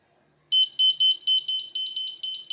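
After a short silence, a vehicle accident-avoidance system's electronic buzzer starts beeping rapidly and loudly as an obstacle comes within 5 centimeters, a rhythmic series of sharp high-pitched tones repeating close by.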